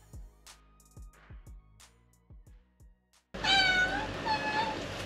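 Several short meows from a domestic cat, spaced apart and fairly close, followed by a sudden burst of loud chirping birdsong with rustling noise.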